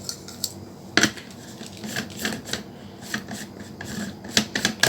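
Salad dressing of black pepper and water being mixed with a spoon in a bowl: irregular clinking and scraping taps, close and fairly loud, in quick uneven clusters.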